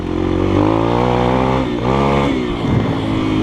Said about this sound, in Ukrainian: Так, давайте ще раз газку дамо.